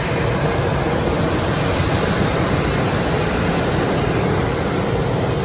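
A private jet's engines roar steadily and loudly up close, a dense, unbroken rushing whine with no pauses and no voices.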